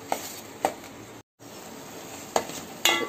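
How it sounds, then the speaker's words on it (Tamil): Onions sauté in a pan for an egg gravy, a steady sizzle punctuated by a few sharp utensil clicks and stirs, with one brief silent gap partway through. "வெங்காயத்தை நல்லா போட்டு பச்சை வாடை போறோம்னு நல்லா வதக்கிக்கோங்க"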